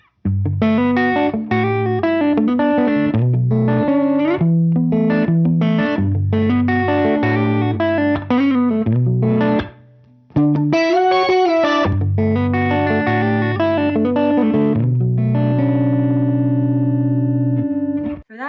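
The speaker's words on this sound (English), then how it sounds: "I'm going to show you a section where I have the pitch jump up suddenly." Electric guitar run through an octave pitch-shift effect with the dry signal blended in, playing a synth-like, heavily processed melodic line whose pitch leaps suddenly upward, loud and continuous with a brief gap near the end.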